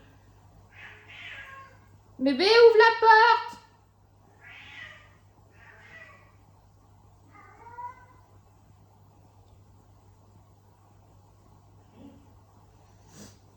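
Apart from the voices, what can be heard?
cat meowing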